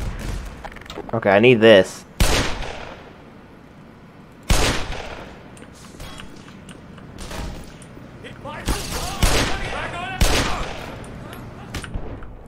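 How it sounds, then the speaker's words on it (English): Frag grenade blasts and gunfire in Black Mesa: several loud, sharp explosions at irregular intervals, each with a booming tail, mixed with bursts of shots, while someone speaks briefly between them. "I'm putting frag grenades everywhere!"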